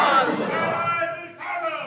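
A crowd roars a chant in unison in response to a Takbir call at a religious gathering in a mosque, a loud swell of massed voices that dips briefly near the end and then rises again.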